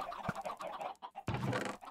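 Chickens clucking in Minecraft, the blocky video game, in short repeated bursts at close range, pausing briefly before a louder run of clucks.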